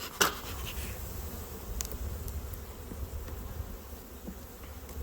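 Honey bees buzz steadily and close during a late-February hive inspection, a dense continuous drone with occasional sharper passes from individual bees and light handling noises, no talking.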